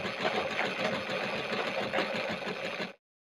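A beading sewing machine stitches net saree fabric at a moderate pace, giving a steady, close mechanical whirr and rattle that runs without pause for about three seconds and then stops abruptly.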